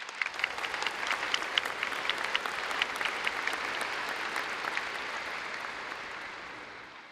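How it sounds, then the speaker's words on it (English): Audience at a high school graduation applauding steadily, a dense wash of many hands clapping from across a large hall, gradually tapering off toward the end. "let's give those folks a round of applause."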